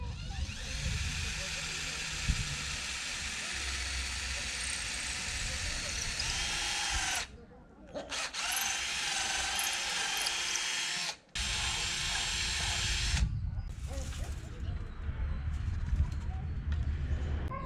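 A power drill boring a hole through wood outdoors, a steady loud whirring drone that runs continuously with two brief pauses, while birds coo in the background.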